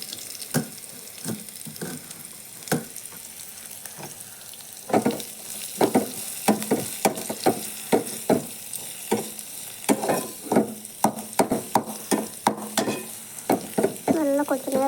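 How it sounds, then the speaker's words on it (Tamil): Chopped beans and carrots sauté with onion in a pan, a steady low sizzle broken by frequent scraping and clinking taps as a spoon stirs the vegetables. "இது கூடவே நம்ம நறுக்கி வச்சுருக்க பீன்ஸு, கேரட் எல்லாமே சேர்த்து நல்லா வதக்கிக்கலாம்."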